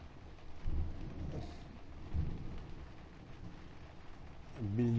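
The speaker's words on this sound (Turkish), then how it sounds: "Evet, siz de zannediyorum gök gürültüsünü duyabiliyorsunuzdur." Low thunder rumbles in the distance over an outdoor amateur football match between veteran teams, with a couple of deeper swells above steady ambient noise and faint voices.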